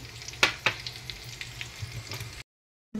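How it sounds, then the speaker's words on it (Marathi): Curry leaves crackle in hot oil for a tempering meant for khandvi, a close, steady sizzle punctuated by a few louder pops early on, then cutting abruptly to silence near the end. "त्याच्यानंतर हा कढीपत्ता घालायचा, फोडणी करायची।"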